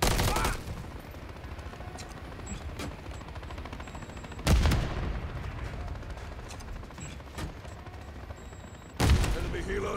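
Gunfire in the video game Call of Duty Modern Warfare 3, sustained automatic weapon fire with heavy impacts punctuating it about every four seconds, while radio-style voices speak over the battle.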